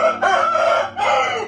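A rooster crows loudly and close by, one long drawn-out call broken into two strained sections, with little else audible around it.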